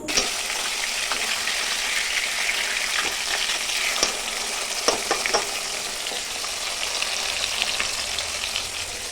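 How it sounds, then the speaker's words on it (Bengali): A loud, steady sizzle comes from a rui fish frying in oil in a pan after being flipped, broken by scattered crackles and a few sharp pops. "মাছটা কিন্তু একটু বেশি ভালো করেই ভাজতে হবে, লাল লাল করে।"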